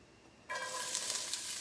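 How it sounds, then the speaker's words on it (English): Onions hitting hot oil in a skillet set up a sudden, steady sizzle that starts partway in and holds loud and close, a bright continuous hiss with no voices. "You can hear that nice sizzle, so that means oil is nice and hot"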